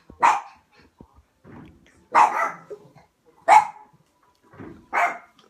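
Dogs agitated by fireworks out on the street bark in four loud, close bursts spaced about a second apart, with faint whimpers and rustling between them.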